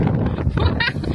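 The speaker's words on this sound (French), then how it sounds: "Par contre, il y a trop de vent." Strong wind buffets the microphone in low, gusty rumbles by the water, with a voice talking underneath.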